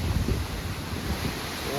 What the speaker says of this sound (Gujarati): ફૂલ વાવાઝોડું આવી ગયું ભયંકર મોટું યાર